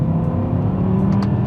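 A V10 BMW M6 revs steadily while downshifting into first gear, giving a smooth, sustained engine drone heard from inside the car at a constant moderate level without any talk.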